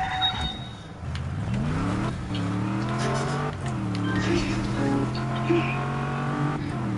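A car driven in the open-world game Just Cause 3, engine tone rising and falling through gear changes at steady loudness, with game ambience around it.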